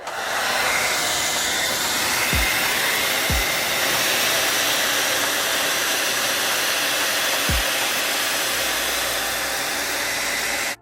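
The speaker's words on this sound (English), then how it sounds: "we're about to use this hair dryer and get them right" Steady, loud hair dryer blowing on warm high heat while cleaning sneakers, a continuous broadband roar with a few faint low thumps underneath.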